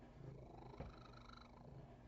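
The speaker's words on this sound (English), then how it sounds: "Do you hear that purr?" A cat purrs steadily while being brushed, a low continuous rumble close by that holds evenly through the clip, with a brief soft bump partway through.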